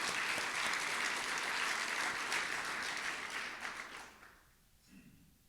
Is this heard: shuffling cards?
no